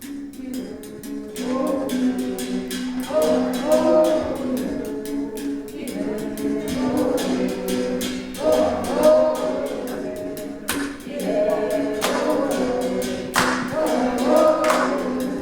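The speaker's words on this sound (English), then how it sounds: "So we're hearing a song in the background" A song with a steady pulse and layered voices plays throughout, full and continuous, with sharp rhythmic accents recurring across the whole stretch.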